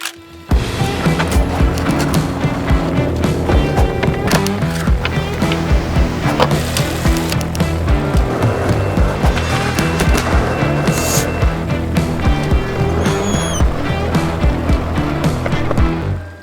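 Skateboard rolling on a ramp during backside and frontside pivot warm-ups, a continuous loud rumble of wheels with repeated clacks and knocks of the board throughout.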